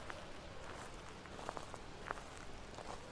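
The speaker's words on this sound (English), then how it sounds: "when I put the salt down, you hear the footsteps" Footsteps in the Phasmophobia video game tap faintly over a steady background hiss, a few soft, spaced steps heard alone.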